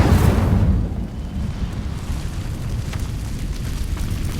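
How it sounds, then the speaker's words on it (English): An Incendio fire spell bursts and ignites dry vines in Hogwarts Legacy, a loud sudden whoosh-boom up front that settles into a rumbling, crackling burn fading over a few seconds. "These dry vines are one spark away from becoming kindling. Incendio."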